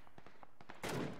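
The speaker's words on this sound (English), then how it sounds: "He's shooting. Someone's shooting him." Video game gunshots pop in a quick series of faint, distant reports, followed by one louder burst near the end.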